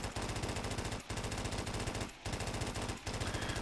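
An RPD machine gun fires in a Custom Zombies video game, loud and close: rapid continuous bursts of automatic shots broken by three brief pauses, with no voices over them.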